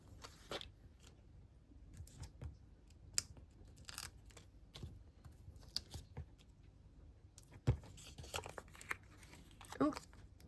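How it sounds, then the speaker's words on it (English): Quiet crinkling and tearing of tape as it is pulled and pressed onto layered paper tags for papercraft, soft and close, with scattered rustles and a voice talking faintly. "I'm gonna put some of the tape here."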